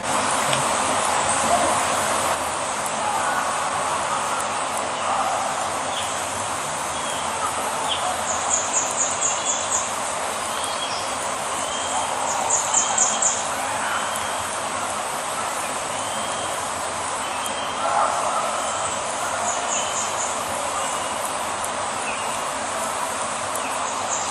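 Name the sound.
birds calling in field recording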